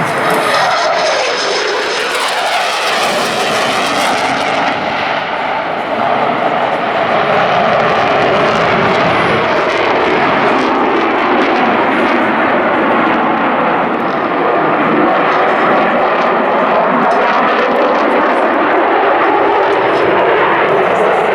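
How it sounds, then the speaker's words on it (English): A Eurofighter Typhoon FGR4 jet at an air festival display roars loudly overhead, a sustained, rushing engine thunder that swells and sweeps across over about twenty seconds with no talk. "Now running in from the left, Flight Lieutenant Ryan Lawton in the Typhoon FGR4."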